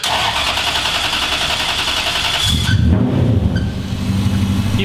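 A V8 engine in a drift truck cranks with a whirring starter for about two and a half seconds, then catches and settles into a loud, rumbling idle.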